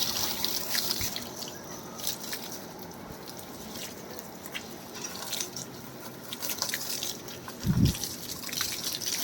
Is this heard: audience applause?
no